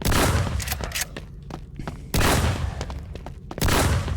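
Gunfire in the video game Undead Mayan Warrior comes in loud, close bursts of rapid shots separated by short pauses holding scattered single shots and thuds.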